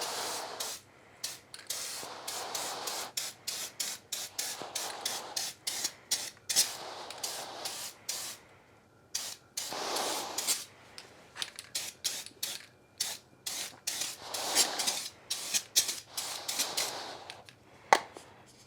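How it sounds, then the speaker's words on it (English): Spray can spraying paint onto metal artwork, a series of short and long hissing bursts with pauses between, close and fairly loud. "That is a powerful spray can."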